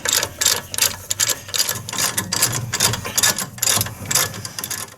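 A ratchet clicks rapidly and loudly, nearby, in repeated bursts while loosening 18mm bolts on the front wheel hub of a 2014 Silverado or Sierra.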